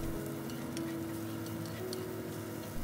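Ginger slices and shallots stir-fried in hot oil: a steady, even sizzle runs throughout, with light clicks of the utensil and a low constant hum underneath.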